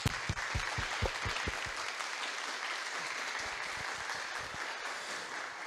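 Audience applause at a school congress event, a burst of fairly distant clapping that starts with a few sharp claps and settles into sustained, even handclapping from a crowd.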